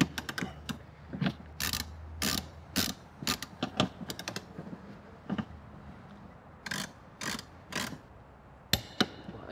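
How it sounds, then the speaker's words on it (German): Upper shock absorber bolts on the rear axle of a VW Passat being tightened with a torque wrench while fitting Bilstein B6 sport shocks, heard as bursts of sharp metallic ratchet clicks separated by brief pauses. "Jetzt ziehen wir die oberen beiden Schrauben mit dem entsprechenden Drehmoment fest."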